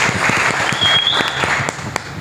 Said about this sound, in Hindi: आप सबके लिए जोर से ताली बजाइए।